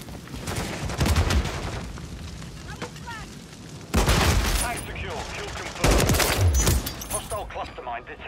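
Rapid automatic gunfire erupts in loud bursts throughout a hardcore Kill Confirmed match in a multiplayer shooter game, with nearer volleys punctuating steadier distant shots while a player talks over the action.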